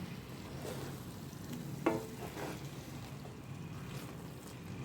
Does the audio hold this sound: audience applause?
no